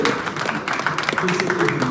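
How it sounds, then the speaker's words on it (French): At an anniversary church celebration, the crowd gives a short round of applause for the secretaries, scattered clapping running beneath a voice speaking over it. "Un applaudissement à les secrétaires."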